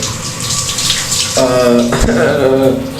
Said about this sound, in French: La douche froide dès le matin là.